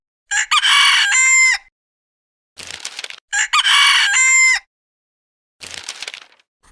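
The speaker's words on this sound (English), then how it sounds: "cock" A rooster crows twice, each loud, close cock-a-doodle-doo lasting over a second, each followed by a shorter, rougher call, with silent gaps between.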